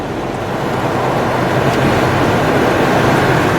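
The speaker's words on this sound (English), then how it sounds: "you can barely hear that motor running" A 2000 Ford F350 Supercab with a 7.3 liter Powerstroke diesel engine idles steadily, giving a continuous, even low rumble with broadband noise and no speech over it.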